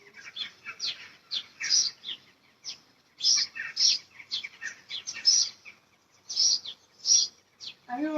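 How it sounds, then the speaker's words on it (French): Birds chirp and tweet outdoors in the morning in quick, bright bursts separated by short gaps, fairly close and clear over a quiet background. "Ah oui, on entend bien les oiseaux."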